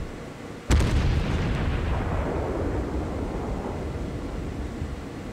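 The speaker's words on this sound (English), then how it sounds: "I send a couple of shells over to the North Carolina." A single heavy warship gun blast in a video game booms suddenly, then a long rumbling roar that slowly fades, loud and alone with no voices.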